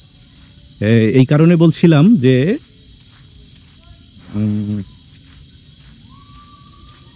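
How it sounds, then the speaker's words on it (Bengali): Crickets in Sentosa Jungle, Singapore, keep up a constant, loud, high-pitched chirring through the whole stretch while someone talks over it in two short bursts. "এরা এই ঝিঝি পোকার ডাকের ব্যবস্থা করেছে।"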